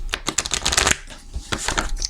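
Oracle cards being shuffled by hand give quick, close riffling flutters in two short bursts, with no talk.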